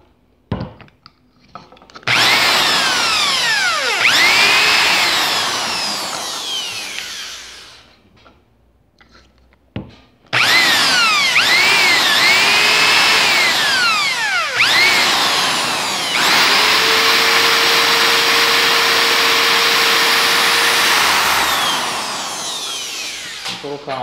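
A power drill bores a hole through a GoPro Hero 4 Black waterproof plastic case in two long, loud, close bursts with whining pitch shifts, separated by a brief pause.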